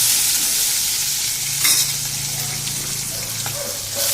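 Two onions drop into hot oil in a pan, a loud close sizzle that flares with a burst of hissing and then settles into steady frying crackle, with a few light clinks.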